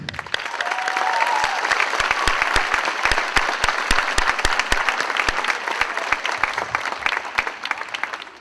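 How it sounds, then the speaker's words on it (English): Auditorium crowd applauding graduates at an adult school graduation ceremony at Nashua High School South, a dense, sustained roll of many hands with sharp individual claps standing out, no talking. "I want to give a big round of applause and a welcome to all of you"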